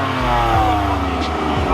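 A newly bought car's engine revs up in a steady rising drone, close and loud, with a second throttle blip near the end as people talk nearby.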